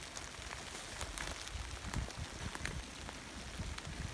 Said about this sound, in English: This rain's starting to pick up.